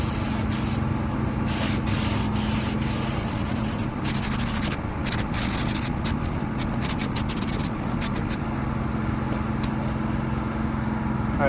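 A spray gun lays a coat of silver paint on a car bumper, hissing steadily and close, with short breaks and pulses as the passes stop and start.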